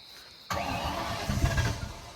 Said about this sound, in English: All right, first start.